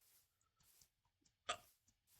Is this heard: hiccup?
yes